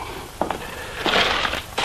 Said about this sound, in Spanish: Cuidado con los cristales.